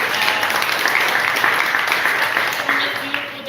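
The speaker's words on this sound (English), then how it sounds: "let's first give yourselves a round of applause for being here" A community peace summit audience gives a round of applause, a dense wash of clapping that holds steady throughout, with voices mixed in.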